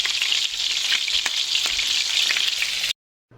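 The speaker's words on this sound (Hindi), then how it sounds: "जब कबाबों का कलर हर तरफ से लाइट ब्राउन हो गया और ये अच्छे से फ्राई हो गए" Beef malai kababs frying in a pan, a loud continuous hiss of sizzling oil with occasional soft taps before cutting out to silence.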